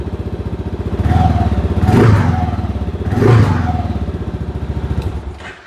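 Fuel-injected third-generation Kawasaki KLR motorcycle with the snorkel removed, its single-cylinder engine pulsing steadily at idle with two brief swells of revving, loud and close.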